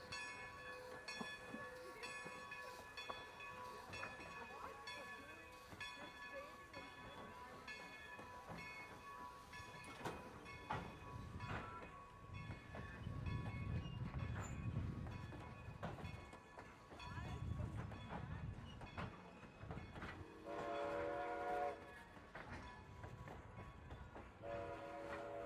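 A Strasburg Rail Road steam train starting and running in an Amish village area, with a steady low rumble swelling midway and tonal whistle or horn blasts near the end, under faint distant background sounds.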